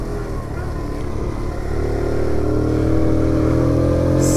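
Daytona Hobby 50 small motorcycle engine while riding, a steady buzzing drone that rises slightly in pitch and loudness partway through, heard up close with wind rush.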